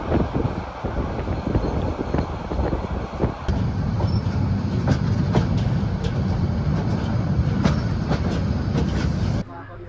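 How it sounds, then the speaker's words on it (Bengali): Parjatak Express passenger train running on rails, heard from inside a carriage as a loud continuous rumble with rhythmic clicks and wind noise. "অবশেষে আমাদের ট্রেন ছেড়ে দিল"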